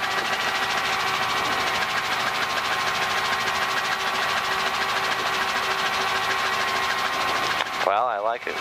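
A helicopter engine and rotor drone steadily and loudly throughout autorotation training, a constant mechanical hum with tonal whine, briefly changing pitch near the end; voices talk over it.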